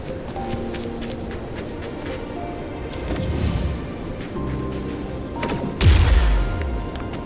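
A blast in the Wuthering Waves game, set off with tacitite fulminate to open a disk: a sudden loud boom with a low rumbling tail near the end, over a steady ambient game backdrop.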